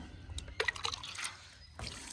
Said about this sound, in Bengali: পুরো একটা পানি মেরে দিই।